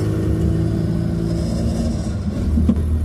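Small Fiat Cinquecento 700 engine running at steady high revs, a loud continuous drone held throughout with a slight dip and a brief surge near the end, no talk.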